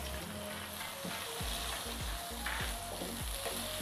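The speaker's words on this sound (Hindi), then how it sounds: "जस्ट इसको सौते करेंगे, मतलब सॉफ्ट होने तक हम इसको फ्राई कर लेंगे।" Finely chopped medium onion fries in oil until soft, giving a constant close sizzle with repeated stirring scrapes and low music underneath.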